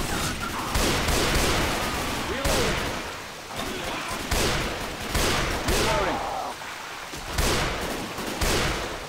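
Rapid gunfire bursts from the Left 4 Dead 2 video game, storm setting, with repeated volleys of shots up close over a constant rumble and occasional voices.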